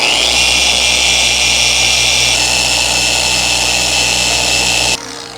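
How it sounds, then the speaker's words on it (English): Car polisher running steadily on a Bentley Continental's paint during correction, a loud continuous high whine and motor hum that holds for several seconds before dropping abruptly to a quieter tone. "I'll just kind of let the polisher do all the work."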